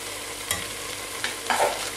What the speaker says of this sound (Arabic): وكملي قلي القدره تاعك مليح مليح.